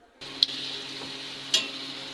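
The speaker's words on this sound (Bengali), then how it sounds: "পেঁয়াজ মরিচ আর রসুন তো এখনো ভাজা হচ্ছে।" Onion, chili and garlic fry in a pan with a steady close sizzle, broken by two sharp clinks of a spoon stirring against the metal.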